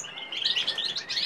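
Male European goldfinch giving a run of bright, rapid chirps and twitters, close and fairly loud, with no voices.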